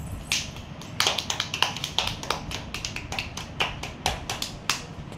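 Children clapping after a game, a run of sharp irregular claps, close and moderately loud, with short gaps and a few claps landing together.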